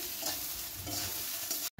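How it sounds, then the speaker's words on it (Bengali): Onion stalks, beans, cauliflower and bottle gourd peel fry and are stirred in a village kitchen, giving a continuous close hissing sizzle with scraping stir sounds, cut off briefly near the end. "এটা হচ্ছে পেঁয়াজ কলি, সিম, ফুলকপি, তারপর লাউয়ের খোসা, পেঁয়াজ টিয়াজ সব কিছু দিয়ে ভাজা করছে এখানে একটা"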